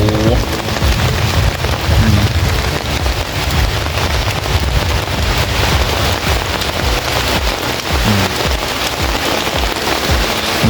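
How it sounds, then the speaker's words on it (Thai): Heavy rain pours without pause through a thunderstorm on a jungle patrol, a dense, loud hiss of drops striking surfaces that fills the whole stretch, with no one speaking. "ฝนมาแล้วครับ"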